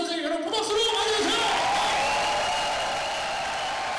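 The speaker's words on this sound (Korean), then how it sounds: "여러분 박수로 환영해주세요!" An audience of about 700 applauds to welcome a lecturer on stage, a steady, even hiss of many hands clapping in a large hall, with a voice and music trailing off at the start.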